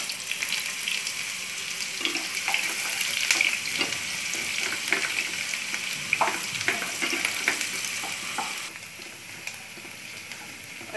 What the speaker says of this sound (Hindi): ऑयल गर्म हो गया। अभी जो ऑनियन स्लाइस करके कट के रखा था वो ऐड कर दिया।